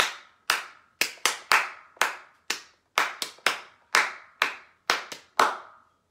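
Children clapping their hands along to the farmer-and-dog name-o song during a library circle time, a run of sharp, loud, separate claps in an uneven rhythm with no voices.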